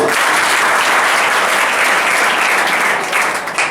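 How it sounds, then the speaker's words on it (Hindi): Loud, dense audience applause at a quiz show, continuous clapping heard up close and alone for several seconds before easing slightly at the end. "रंजीत सर के लिए ताली हो जाए।"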